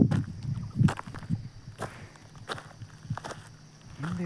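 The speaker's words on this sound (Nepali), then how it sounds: "हिँड्दै त छु केटा हो" One person walks alone outdoors on a sunny path. The footsteps are close and fairly steady, crunching and scuffing over rough ground, with light rustling between steps.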